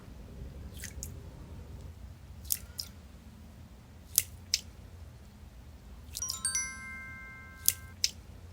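A squishy ball is squeezed and handled in several separate sessions, giving soft wet squelches, sticky clicks and short crackly bursts that are close up and alone against quiet background hiss.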